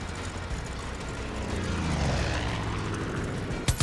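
Damaged plane engine in the video game Far Cry 5, a loud, continuous droning roar that swells slightly in the middle, ending in a couple of sharp bangs.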